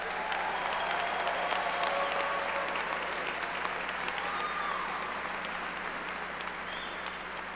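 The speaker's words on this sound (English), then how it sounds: "Let's give our graduates of 2025 a huge round of applause." Sustained applause from a seated audience honoring the 2025 graduates at a college nursing pinning ceremony, a steady dense clapping that holds at even strength and eases slightly toward the end.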